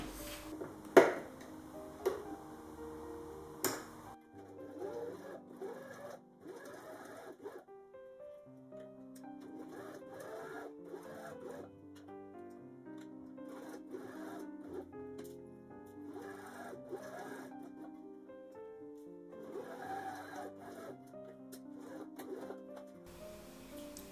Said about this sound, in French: nous allons passer une couture tout le tour